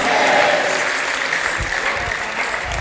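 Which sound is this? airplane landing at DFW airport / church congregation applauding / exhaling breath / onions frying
church congregation applauding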